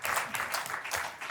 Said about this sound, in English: so I think she deserves a round of applause